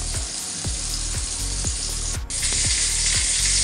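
Pomfret sizzling in a pan over low gas, a continuous close hiss with a regular train of soft ticking pops and a low steady hum beneath, briefly dipping before the sizzle swells louder.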